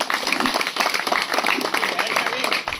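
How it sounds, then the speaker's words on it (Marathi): An audience at a village temple anniversary event claps in a dense, even burst of applause that holds steady for a few seconds, with no voice over it. "त्यांच्यासाठी जोरदार टाळ्या."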